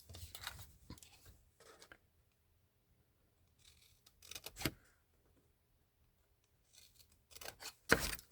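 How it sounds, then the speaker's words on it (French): Scissors cut paper for a handmade mini album in a few short, quiet snipping and rustling bursts separated by near silence, close and faint. "je vais venir tout simplement couper ici"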